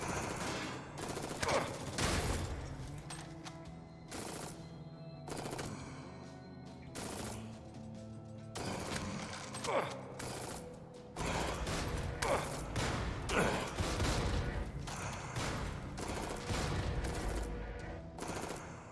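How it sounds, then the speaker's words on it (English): Automatic machine gun fire from the roguelike shooter Jupiter Hell, with repeated loud bursts of rapid shots and explosive impacts spread across the whole stretch over steady game noise. "we're going to switch to the machine gun"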